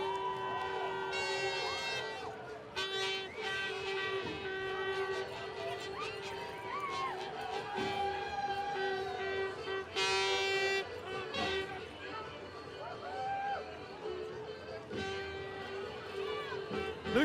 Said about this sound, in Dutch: Ze hebben allemaal toeters en bellen bezig